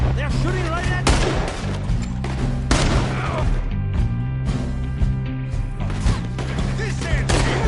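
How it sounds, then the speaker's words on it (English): Repeated gunshots from a Western shootout in Red Dead Redemption on PS4, crackling in bursts over a steady musical score, with someone shouting urgently between the shots. "They're shooting right at me!"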